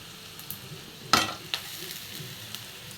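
Coconut and onion sizzle and fry steadily in a pan, with a brief sharp scrape of stirring near the start of the clip.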